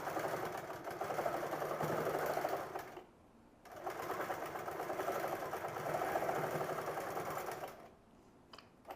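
A sewing machine stitches a baby jacket in steady, close runs, pausing briefly partway and again near the end before resuming.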